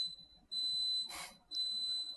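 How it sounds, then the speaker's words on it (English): An electronic rice cooker alarm beeps indoors in a steady, high, piercing tone, sounding twice with a short gap between, while a brief burst of hiss or rustle falls in that gap. "It's my rice cooker."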